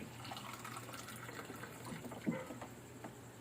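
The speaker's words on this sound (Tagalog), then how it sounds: "Tubig! Sabawan natin ng 2 cup lang." Water pours into a cooking pot to make broth, a soft gushing trickle heard up close over quiet room noise, with a small splash or clink partway through.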